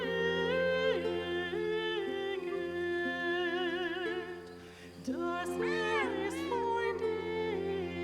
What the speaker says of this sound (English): Let's pet the cat.